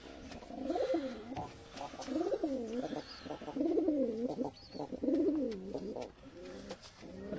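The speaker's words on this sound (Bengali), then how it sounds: "লটন পায়রাটা দেখো" Lotan pigeons coo in a home loft, a run of repeated rolling, warbling coos in close succession, fairly near and steady.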